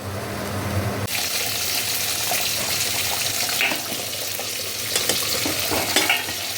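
Mutton pieces fry over a high flame, a loud sizzle bursting in suddenly and hissing on continuously, with occasional scraping from stirring.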